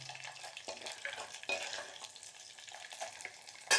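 Dried turkey berries frying in hot oil in a pan, a soft continuous crackle and sizzle with small popping bursts, close up and fairly quiet, with no talk.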